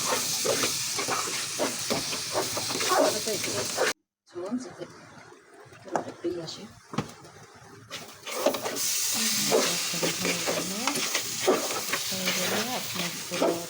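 Rice and meat for morog polao fry with bay leaves in a pan, giving a loud, steady sizzle broken by scraping stirs and one brief pause. A person talks over the cooking.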